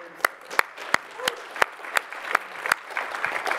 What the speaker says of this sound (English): That should cause an applause